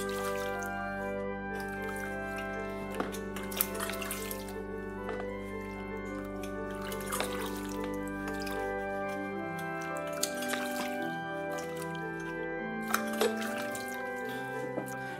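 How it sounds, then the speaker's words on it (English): Hot tap water runs steadily over trumpet valves as they are cleaned, a close, continuous trickling and dripping with small clinks of metal throughout, alone with no voices. "Doing all of this under the hot water."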